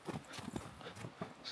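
A tired horse walks through snow, its hooves giving soft, muffled, irregular clip-clop steps at close range over a quiet background.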